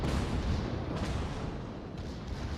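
Naval gunfire from World of Warships, with shells from an enemy Minotaur cruiser striking a ship, forms a dense, continuous rumble of booming impacts that stays loud throughout.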